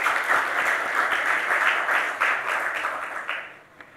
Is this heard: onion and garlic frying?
no